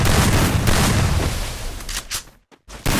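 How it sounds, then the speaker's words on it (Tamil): Gunfire from the video game Free Fire: a dense, loud burst of rapid shots fills the first two seconds, fading, then a brief silence before another shot cuts in. "6 புல்லட் அடிச்சேன். 6 புல்லட் ஒரே புல்லட் அடிச்சேன்."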